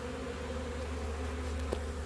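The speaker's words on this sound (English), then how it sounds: "those bees are there" Steady, droning buzz of many honeybees close by around an open hive, a continuous insect hum with no voices.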